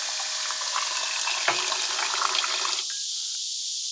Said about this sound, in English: a battery powered little water pump, and this just flips up